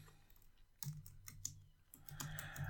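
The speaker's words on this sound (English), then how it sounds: "This moment of typing brought to you by Tom Clark's Main Event." Typing on a computer keyboard, with quiet, irregular clusters of key clicks and a few louder strokes close by.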